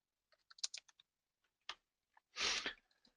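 Fingers type text on a computer keyboard, a quick irregular cluster of clicks followed by a few isolated keystrokes and one longer, louder burst, heard alone in a quiet room.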